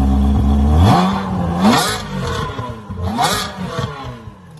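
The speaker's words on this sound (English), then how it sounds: "Give it a couple of revs." A Ferrari 360 Spider engine, heard close and loud, is blipped twice, each time rising sharply then falling back toward idle.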